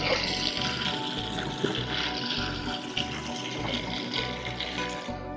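Water splashes and pours steadily in a home kitchen while a low pump-like hum pulses on and off beneath it, the flow continuous and close.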